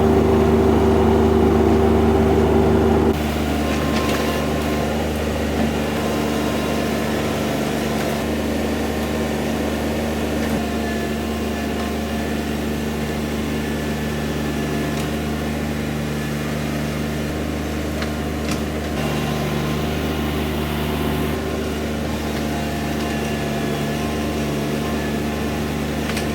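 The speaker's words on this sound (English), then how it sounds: "I'm gonna jump on the tractor real quick and try to spruce a few of the little spots up" Tractor engine working on a dirt motocross track, a steady droning mechanical hum with a deep low rumble throughout, fairly close and continuous with slight shifts in load.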